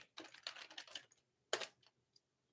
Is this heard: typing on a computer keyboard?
yes